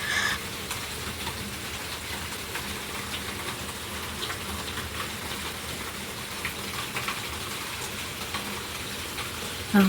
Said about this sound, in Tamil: மழை பாருங்கள் எவ்வளோ பெய்யுது பயங்கரமாக பெஞ்சிட்டே தான் இருக்குது